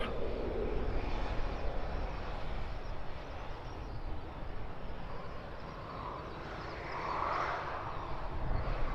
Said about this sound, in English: Full length takeoff.